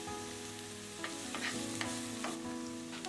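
Chopped onions and green chilies fry in a pan, giving a continuous soft sizzle broken by a few scrapes and stirring sounds, heard fairly close with no voices.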